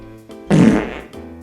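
A single loud fart, close and brief, with a short blustery rasp lasting about half a second over a quiet background hum.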